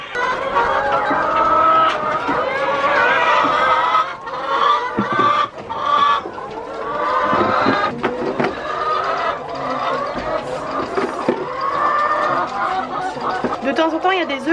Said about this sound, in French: maintenant je vais actionner le tapis roulant et je vais réceptionner les œufs